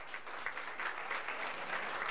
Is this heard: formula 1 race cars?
no